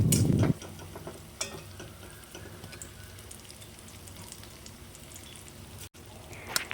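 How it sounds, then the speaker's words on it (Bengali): Green chilli frying with spices in a pan, a steady close sizzle with occasional light scrapes of stirring, opening with a brief louder rustle and clatter. "এবার ওই লঙ্কাটাকে দিয়েও আবার ভালো করে নাড়াচাড়া করব, যাতে লঙ্কাটা ভাজা ভাজা হয়ে যায়।"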